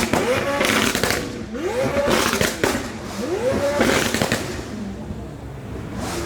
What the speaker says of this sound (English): I didn't know a 720S could sound like that.